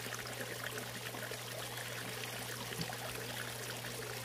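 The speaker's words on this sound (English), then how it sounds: "so you can see the water coming out" Water pours steadily out of a homemade fine-particulate filter. It makes a soft, continuous trickling stream at low level with no breaks, over a constant low hum.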